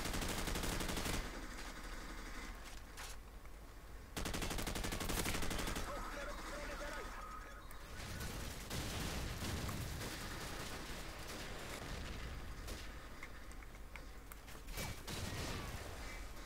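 Rapid bursts of gunfire crackle in Call of Duty 4: Modern Warfare during a team deathmatch on a swamp map, with sharp shots in clusters and loud stretches of firing against a busy game background.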